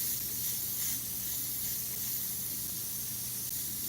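An Iwata CM-SB airbrush sprays Createx Illustration Colors paint onto Claybord, a steady, even airy hiss held without pause for several seconds.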